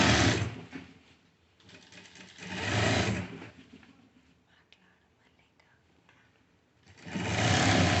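A sewing machine stitches formal pants in bursts: a loud run at the start, another near three seconds and a final one at the end, with quiet gaps and soft whispered talk between.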